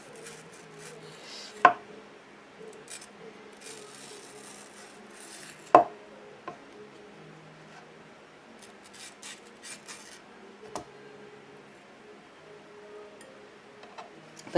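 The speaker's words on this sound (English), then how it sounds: "I'm hitting the seed again. And I can just kind of feel it with my knife." A knife cutting up a mango strikes the hard seed, producing a couple of sharp, distinct clicks with soft scraping and slicing in between, all close and fairly quiet.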